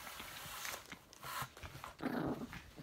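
Puppies growling and scuffling while play-fighting indoors, with short bursts of low growls and yips repeating across the clip at close range.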